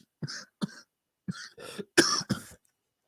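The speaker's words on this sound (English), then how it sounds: "I'm just coughing." A man coughs in a quiet room: six short, close, dry bursts in small clusters, separated by brief silences.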